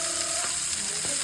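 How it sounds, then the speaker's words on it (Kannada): Mutton pieces frying in a pan for biryani give a steady, close hiss of sizzling oil throughout, with a couple of soft stirring knocks partway through. "ಎರಡು ಸೈಡು ಚೆನ್ನಾಗಿ ಫ್ರೈ ಮಾಡಬೇಕು."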